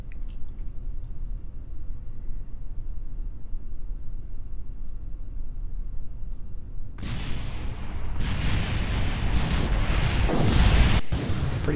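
Cluster bombs striking the ground in Kerbal Space Program, a long quiet rumble, then a dense burst of many small explosions crackling and booming together, growing louder toward the end.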